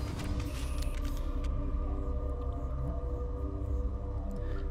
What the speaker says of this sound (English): Elevator down.